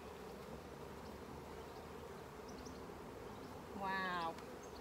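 Bees buzz in a steady, soft drone around an open beehive during an inspection, with a brief louder, higher buzz near the end as one passes close.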